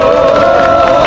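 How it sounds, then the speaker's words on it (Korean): A rally crowd gathered outside Daehanmun in Seoul breaks into loud, sustained applause and cheering to welcome a former unification minister, a dense continuous roar of clapping and voices throughout. "큰 박수로 환영해 주시기 바랍니다."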